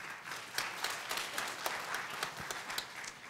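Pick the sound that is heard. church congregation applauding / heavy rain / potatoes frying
church congregation applauding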